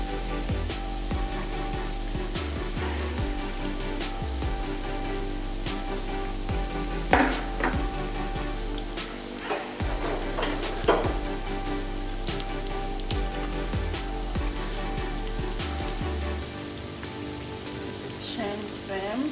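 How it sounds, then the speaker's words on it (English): Homemade doughnuts fry in hot oil with a steady, dense crackling sizzle throughout, broken by a few sharper clicks and knocks. "Let them fry."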